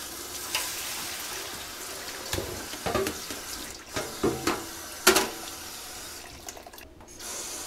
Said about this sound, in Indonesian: Jadi kita tumis, terus kita pakai air.